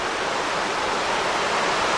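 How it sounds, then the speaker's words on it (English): A river runs past a campsite at Worlds End State Park, Pennsylvania, after a day of heavy rain: a steady, close, full rushing of water, constant and unbroken, with no voices over it. "down by the river again"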